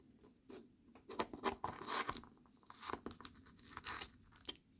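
A Kizer Hare knife blade slices through rope in a quiet, close series of fibrous tearing and crunching strokes, faint overall, with no one talking.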